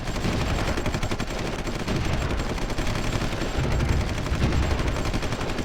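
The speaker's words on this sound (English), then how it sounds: "now the artillery is getting pounded" Heavy artillery and gunfire from battles in the war strategy game Supreme Ruler Ultimate, a dense, continuous barrage of booms and rapid shots filling the whole stretch at steady loudness with no talk.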